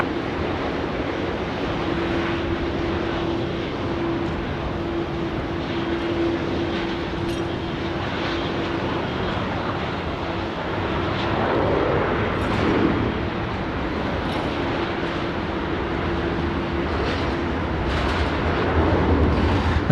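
Velocity flight 1142, in from Ballina, moves around Sydney Airport with a continuous loud engine rumble and rush that swells slightly near the middle and end, and no talking.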